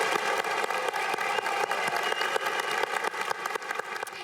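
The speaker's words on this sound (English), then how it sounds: "do a rousing applause for our 151st entering freshman class" Sustained loud applause from a large commencement crowd welcoming the entering freshman class at a University of Washington graduation ceremony, dense and steady clapping filling the whole stretch with no talk.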